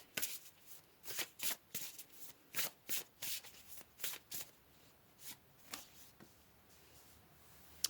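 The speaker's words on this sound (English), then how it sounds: "So let's pull another card here." Tarot cards are shuffled in a quiet room, giving a run of soft, crisp riffling bursts in irregular rhythm, close and fairly faint, with no talking.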